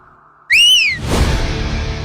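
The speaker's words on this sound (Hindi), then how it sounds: "सीटी क्यों बजा रहा है बे?" A single rising-and-falling whistle, loud and close, bends up then drops over about half a second, followed by a burst of noisy clatter and background sound.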